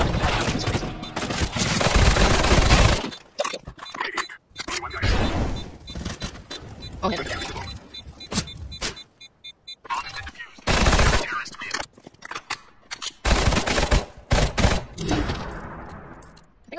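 Bursts of SMG gunfire in Counter-Strike: Global Offensive crack out in rapid strings separated by short pauses, loud and close, with booms and impacts mixed in and a player talking over parts of the action.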